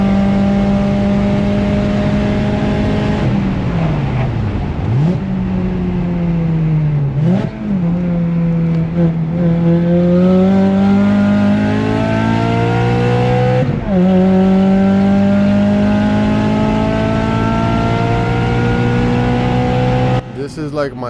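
A Honda car pushed hard around a race track, its engine droning loudly and steadily with repeated rising and falling pitch through gear changes, under continuous cabin wind and road noise; a person talks over it.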